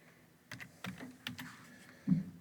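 Typing on a computer keyboard in a quiet room: a handful of soft separate key taps with irregular gaps and one louder keystroke near the end, no voices.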